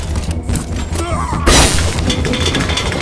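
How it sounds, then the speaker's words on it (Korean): An enemy's head is smashed into a drink vending machine in RoboCop Rogue City Unfinished Business, a loud crash with shattering glass at about halfway, following muffled thuds and game noise. "근접전을 좋아한다면 적의 머리를 음료 자판기에 그냥 박살낼 수가 있어요"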